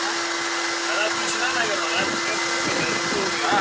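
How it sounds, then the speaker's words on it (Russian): A steady, loud whirring drone from a vacuum cleaner motor connected in a woodworking shop, with a constant tonal hum, running without pause while voices murmur faintly. "пылесос сейчас подсоединим"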